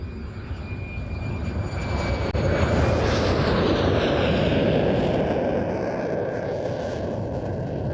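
A propeller reconnaissance aircraft drones loudly and steadily overhead during an air show flying display, a broad continuous engine roar with no voices.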